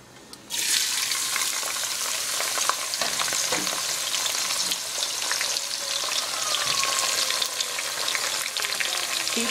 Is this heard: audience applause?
no